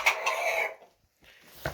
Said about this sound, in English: I'll go ahead and show you my roosters